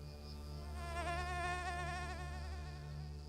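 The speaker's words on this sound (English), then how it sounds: "a land of marshes teeming with insects" Insects buzzing steadily over the Camargue marshes in the summer heat, a continuous whining drone like mosquitoes and flies that swells slightly in the middle, close and fairly quiet, with no voices.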